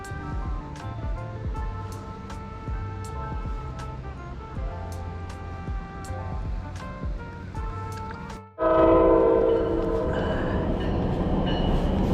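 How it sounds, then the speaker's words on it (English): A train rolls steadily past with a busy rumbling, rattling clatter, then swells louder and rougher near the end as it roars close by; no clear horn blast. "here comes the express train"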